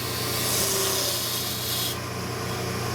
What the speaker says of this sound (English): And I start cutting my cove.